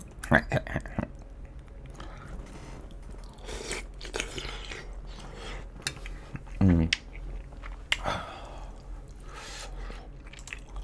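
Someone eating sundae gukbap, a Korean blood sausage soup, with close wet chewing, slurping and a few spoon and bowl clinks spread across the stretch, fairly loud and up close.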